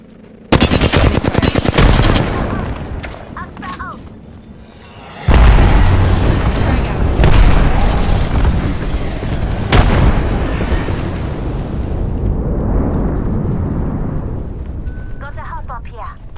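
Loud gunfire bursts and a heavy grenade blast in a round of the Apex Legends battle royale shooter, with rapid weapon fire at the start, a deep boom midway, then continued shooting and combat noise as a voice speaks over it.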